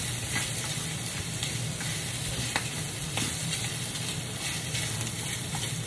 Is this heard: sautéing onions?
yes